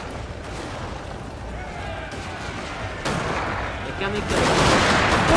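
Gunfire in the Total War: Shogun 2 Fall of Samurai strategy game, a dense, continuous crackle of distant musket and rifle volleys growing louder toward the end, with someone talking over the battle.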